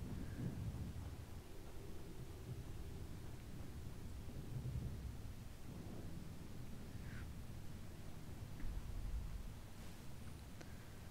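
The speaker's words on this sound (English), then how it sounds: "I'm still hearing the rain." Steady rain hisses throughout with a low, rumbling thunder underneath in the video game Skyrim, continuous and fairly even in loudness.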